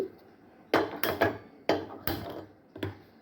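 A metal kadai clanks onto a gas stove burner in a home kitchen ahead of frying vada, several sharp close knocks and scrapes in a loose cluster, then a final lighter clunk.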